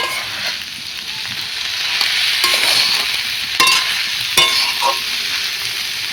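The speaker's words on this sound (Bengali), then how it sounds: "সয়াবিন বড়ি ভেজে রেখেছিলাম আগে থেকে দিয়ে এর সঙ্গে মিশিয়ে নেব" Fried soybean chunks being stirred into a banana flower masala in a hot pan make a steady sizzle, with several sharp scrapes and knocks of the spoon.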